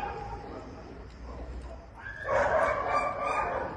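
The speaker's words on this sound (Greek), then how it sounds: "Το άτυχο σκυλάκι ακούγεται να ουρλιάζει." A small dog wearing an electric shock collar yelps and howls in pain, a sudden rising cry breaking out midway over faint background noise and continuing to the end.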